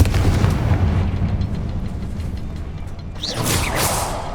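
A Confringo fire spell blasts in Hogwarts Legacy, a rumbling, crackling burst followed by a sharp rising whoosh near the end, loud and without talk.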